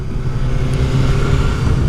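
A 2016 BMW S1000R naked sport bike with 160 brake horsepower rumbles close and loud, its engine note holding steady and deep with no pause and no talk.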